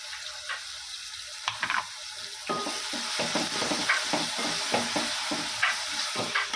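Small onions frying in a pan, a quiet sizzle broken by repeated scraping stirs and light clinks, with a brief trickle of water running near the start.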